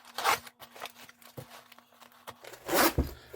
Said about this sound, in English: So it zips on very nicely,